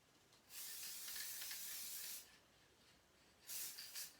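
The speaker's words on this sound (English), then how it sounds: "So I'm just going to give this a light spray and then shake it all about." Two bursts of hissing from a can of LePage multi-purpose spray adhesive, a longer spray of about a second and a half and then a shorter one, close and faint, with no talking.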